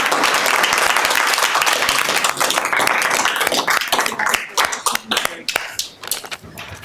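Audience applause at a city council business meeting, dense clapping filling the room at first, then thinning into scattered, uneven claps near the end.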